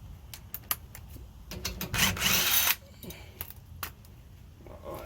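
A low-battery cordless drill loosens a tight bracket bolt during a vehicle third member replacement, giving one strained whirring burst amid scattered clicks and clanks of tools.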